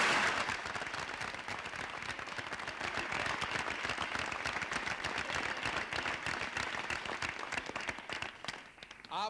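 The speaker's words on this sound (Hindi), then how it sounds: "तालियां बजाकर" A studio audience breaks into applause as a judge is introduced on an old Hindi quiz show, a dense, even wash of clapping that holds steady and then tapers near the end.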